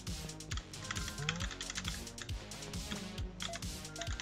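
Computer keyboard keys clatter in quick, uneven bursts while a player types words in a typing game, with the key taps sitting under steady, busy game music.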